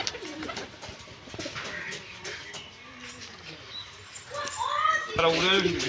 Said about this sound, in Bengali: যে পায়রাটা ছাড়ছি এখন